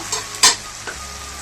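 Tomato and onion masala with spices sizzles and fries in a pan, with a brief louder stir or scrape near the start and a steady soft sizzle throughout, no voices.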